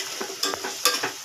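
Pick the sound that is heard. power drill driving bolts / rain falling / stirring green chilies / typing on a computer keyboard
stirring green chilies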